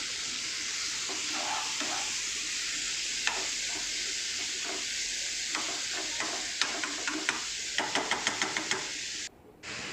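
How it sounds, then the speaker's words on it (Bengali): Chicken being stirred with masala in a pan, a steady sizzle with repeated knocks and scrapes of a spoon against the pan, quickening into rapid taps near the end, no talking. "ভালো করে মশলার সঙ্গে চিকেনগুলো কিন্তু মিক্স করে দিতে হবে।"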